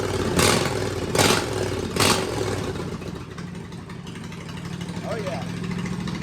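A big-block engine on a log splitter runs loud and rough nearby, with three sharp bursts early on and then a steady low drone, as someone talks over it.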